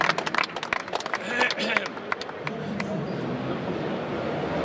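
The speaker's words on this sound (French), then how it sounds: "on les a applaudis encore très fort" An audience applauds the Isola 2000 baker, with dense sharp claps during the first half of the clip that thin out and fade into a murmuring crowd and talk.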